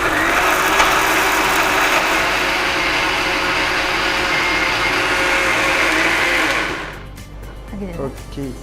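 A loud mixer grinder whirs steadily at high speed, then cuts off near the end, leaving quiet room sound and a faint voice.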